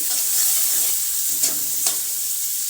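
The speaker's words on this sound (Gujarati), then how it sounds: "2 થી 3 મિનિટ આપણે ડુંગળીને ચડવા દઈશું" Chopped onions fry in spiced oil with asafoetida in a pan, giving a loud, steady sizzle throughout, broken by two brief scraping stirs of a spoon near the end, close by and with no talking.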